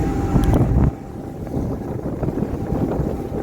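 A loud, steady boat diesel engine rumble on the Intracoastal Waterway, wind buffeting the microphone, a brief louder burst at the start before settling into a constant drone.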